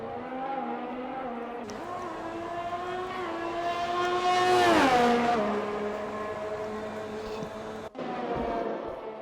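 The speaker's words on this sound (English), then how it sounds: "Quite a few cars coming out on track." Race cars in a racing video game on a French circuit, a steady engine drone that swells as a car closes in and passes near, then fades, with a brief gear change near the end.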